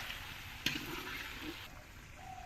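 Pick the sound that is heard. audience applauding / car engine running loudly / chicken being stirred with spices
chicken being stirred with spices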